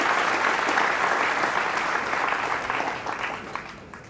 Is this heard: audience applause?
yes